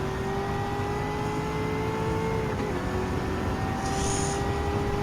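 Racing cars in Gran Turismo 7 drone steadily at high speed, engine tones holding level through a continuous close roar as they pass one another, with no talk.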